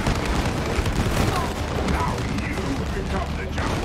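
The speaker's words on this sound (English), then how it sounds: "They only hurt when they explode." Explosions and blasts from the video game It Takes Two form a dense, continuous rumble of booms and crackling bursts, mid-level and steady throughout the scene.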